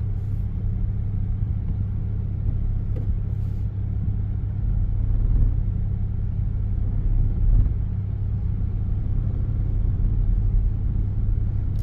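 A car engine running on LPG in second gear gives a steady, loud low rumble from inside the cabin, holding an even drone throughout with no voices.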